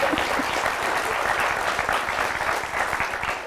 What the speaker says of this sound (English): A round of applause for the dissent.